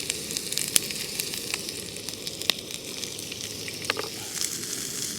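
Chorizo sausage frying in a pan at a campsite, a quiet continuous sizzle broken by scattered crackles and pops and a couple of light clinks.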